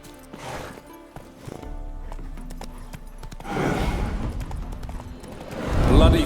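Horse hooves clip-clopping in The Witcher, a steady run of hoof thuds under game ambience and a low rumble that builds toward the end, with a voice speaking briefly.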